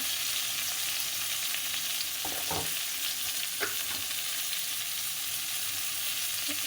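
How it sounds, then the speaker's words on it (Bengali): Vegetables fry in a pan for a raw mango chutney, giving a steady close sizzle throughout with a few scraping stirs, no voices. "সবজিটাকে প্রথমে ভেজে নিচ্ছি।"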